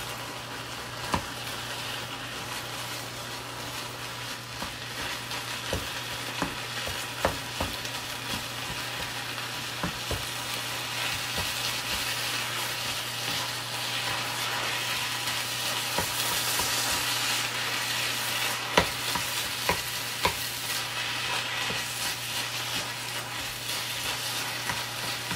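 Beef pepper rice frying in a pan gives a continuous sizzle, with regular scraping and tapping from a utensil stirring it, close by and without speech, and a low steady hum underneath.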